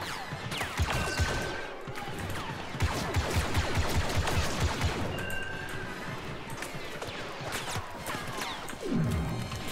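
Heavy, continuous blaster and shotgun fire in a Star Wars Battlefront 2 campaign battle on Endor, dense overlapping bursts and booming shots with crashing impacts throughout.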